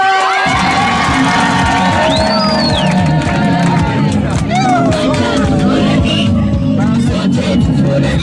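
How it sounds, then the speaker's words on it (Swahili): A wedding crowd applauds steadily and cheers, with whoops and babble rising over the clapping, while a voice speaks loudly over the noise throughout. "Ongeza makofi kwa Bwana."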